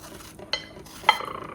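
A knife cuts through a strawberry with two quick crisp taps against a board, close and quiet, with no talking.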